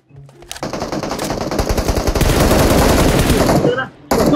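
Rapid automatic gunfire from M416 and MK14 rifles in the PUBG Mobile video game rattles loud and close for about three seconds, then stops briefly before picking up again.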